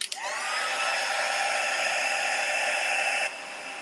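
A heat gun blowing hot air for heat embossing switches on with a click and holds a steady, loud, even whoosh for about three seconds before cutting off.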